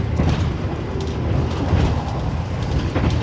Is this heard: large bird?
no